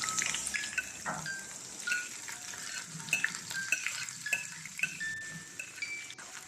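Chopped onions, about two of them, frying in heated oil in a pan while being stirred, giving a soft continuous sizzle with scattered scraping and utensil clinks, fairly quiet and close.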